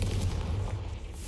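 A Confringo blasting spell goes off in the Hogwarts Legacy video game as a deep, booming explosion with a low rumbling thud that lingers briefly, with no talk over it.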